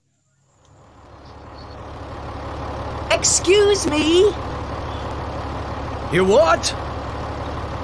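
A truck engine drones steadily in the background of a recorded English listening exercise, while people speak over it in short exchanges.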